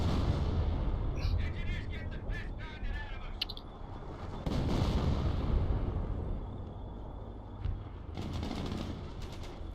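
Howitzer artillery fire in a World War II strategy game battle with American forces against Wehrmacht, heard as booming blasts with dense rumbling explosions throughout, bursts around the middle and near the end, under sharp chirping game effects.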